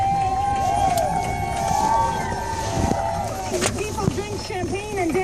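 Street celebration crowd of Biden supporters in Washington, DC, with a steady murmur of voices and cheering, a passing siren wailing and whooping, and traffic noise around.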